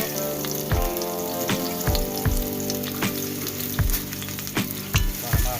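Garlic frying in hot oil for a fish dish, a steady close sizzle with repeated sharp scraping stirs punctuating it, no voices.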